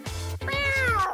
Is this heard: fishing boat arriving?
no